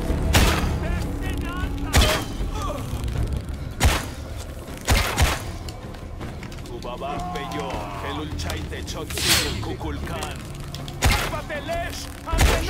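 Gunfire in the video game Shadow of the Tomb Raider: sharp, loud shots at irregular intervals, roughly every two seconds, over game ambience, with people talking throughout.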